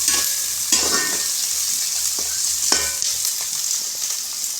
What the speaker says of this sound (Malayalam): സവാള ഗിരി അതിടുക. പിന്നെ നല്ലോണം അങ്ങ് വഴറ്റുക